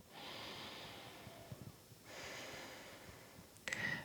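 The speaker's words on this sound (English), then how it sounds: "One more deep inhale and exhale." A slow, deep inhale and exhale during a yoga class: two long, breathy, airy breaths, close to the microphone and alone, with a faint rustle at the end.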